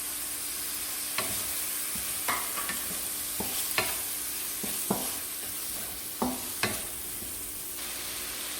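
Tomato chunks and sliced garlic stir-fried in a wok, a steady close sizzle broken by sharp scraping clicks of the spatula every second or so, no voices.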